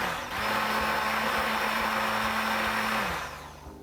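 A kitchen blender whirs through keto mayonnaise after a spoonful of white wine vinegar goes in, one steady loud burst of about three seconds with a sharp start and a quick wind-down, with no talking.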